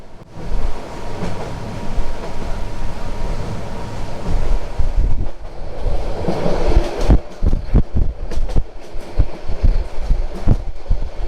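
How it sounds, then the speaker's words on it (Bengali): Cox's Bazar Express pulling into Chittagong railway station at night: loud continuous rumbling and wind-like roar, then a run of sharp clattering knocks from the wheels and carriages in the second half. "আমাদের ট্রেনটি চট্টগ্রাম স্টেশনে প্রবেশ করলো"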